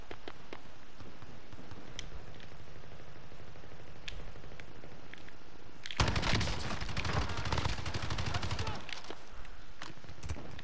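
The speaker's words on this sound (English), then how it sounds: "They're shooting me, yeah. They're right below me." Rapid enemy gunfire in a video game: a quiet stretch of scattered shots, then a loud, dense burst of sustained automatic fire for about three seconds before it thins out again.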